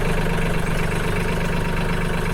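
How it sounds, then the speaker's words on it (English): A tractor engine idles close by, a loud, steady low rumble with a continuous throb and no voices over it. "I wonder if you guys can hear me over the tractor."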